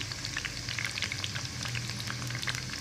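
Mung dal deep frying in hot ghee, a steady close sizzle and crackle with dense bubbling that runs unbroken throughout.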